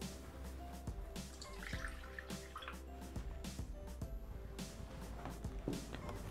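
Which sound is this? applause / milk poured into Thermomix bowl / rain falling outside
milk poured into Thermomix bowl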